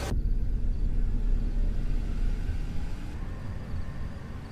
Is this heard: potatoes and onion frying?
no